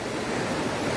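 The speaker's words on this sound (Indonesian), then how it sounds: "Padahal ini sendiri adalah arus yang belum terlalu ekstrim" Steady, dense rushing roar of a fast river current in Pakpak Bharat, North Sumatra, at a search site for victims of a car that plunged into a ravine, loud and continuous without breaks.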